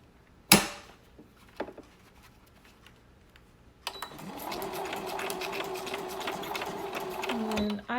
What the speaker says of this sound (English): And we'll sew this side on.